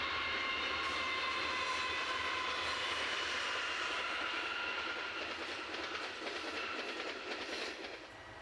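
Heavy 6,000 horsepower freight locomotives haul a 200-plus car train up a 1 in 50 grade, a steady rumbling roar with rail clatter that fades slightly toward the end, heard at a distance.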